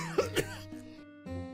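A man coughs hard, two sharp close bursts followed by rougher throat-clearing sounds, loud and alone with no talk.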